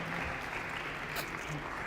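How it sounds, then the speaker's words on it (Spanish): Steady applause from a theatre audience at a staged Shakespeare versus Marlowe session, a dense, even wash of clapping throughout with faint background voices. "Un aplauso para ellos."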